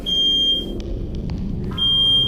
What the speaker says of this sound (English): Just woke up to smoke alarm.